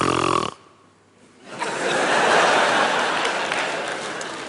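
A woman snores loudly, one long rasping inhalation that swells and holds after a short quiet pause, preceded by a brief burst of other sound.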